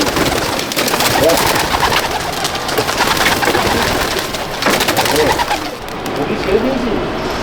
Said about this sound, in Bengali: দেখুন আমি পায়রা ছাড়ছি